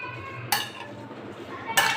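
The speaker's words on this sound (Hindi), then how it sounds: "हम इसको अच्छी तरीके से प्याज और लहसुन और हरी मिर्चों को अच्छी तरीके से हम मिक्स कर देंगे" A spoon clinks against a bowl while onion, garlic and green chilies are stirred together for wonton filling, two sharp knocks about a second apart over a soft background hum.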